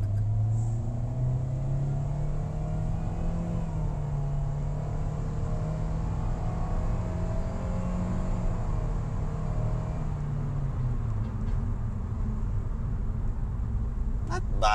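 A 2025 Toyota Veloz V MPV accelerating in normal drive mode, heard from inside the cabin as a steady engine drone and road rumble that rises and then eases, with no talk.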